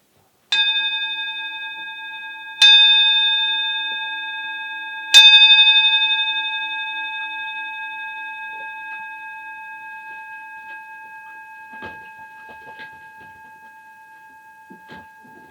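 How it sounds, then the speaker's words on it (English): A mindfulness bell in a children's class is struck three times, each clear ring overlapping and then decaying slowly into a long fading hum, with faint small movements near the end. "So I'm going to ring the bell, and when the sound stops I want you to put up your hand."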